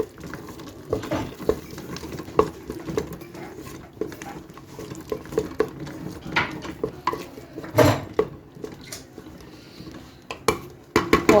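Shrimp are stirred into tomato sauce in a pot for macaroni, a spoon repeatedly scraping and knocking against the metal in irregular clinks over a soft simmering patter, close by and without speech.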